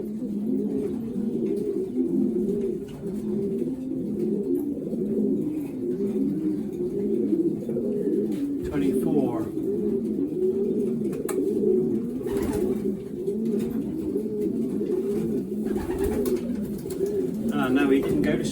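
Racing pigeons packed in a basket coo constantly, a dense overlapping murmur of many birds close by, with occasional clatter and a voice in the background.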